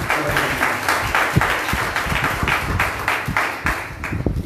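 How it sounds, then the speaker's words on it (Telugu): A Sunday worship congregation at Madikonda claps loudly together, a dense, steady wave of hand claps close and continuous throughout. "గట్టిగా చప్పట్లు."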